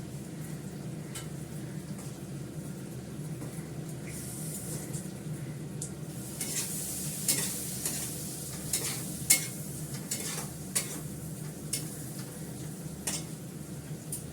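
Green chillies stirred into hot oil in a frying pan, a steady sizzle with repeated scraping and tapping of a spatula, growing busier midway.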